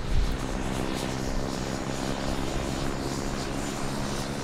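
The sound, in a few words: Pilatus PC-12 aircraft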